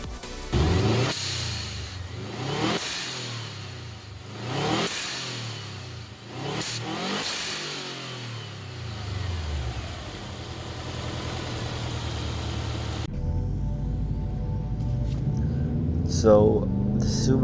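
A tuned Subaru Legacy GT with a swapped EJ20 engine revs hard in repeated rising bursts, then settles into a steady rumbling idle, loud and close, with a voice briefly over the end.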